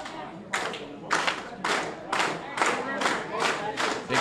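A Glory Pro wrestling crowd in Collinsville claps in unison, a regular rhythmic beat of roughly two claps per second, full and fairly close, with a faint crowd murmur beneath.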